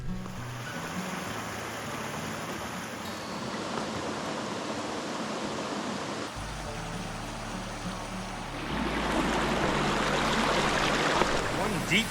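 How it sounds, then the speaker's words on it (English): Mountain stream in the White Mountains rushing steadily over rocks, a broad continuous wash that swells louder toward the end, with faint voices now and then. "I hear water. It makes me happy."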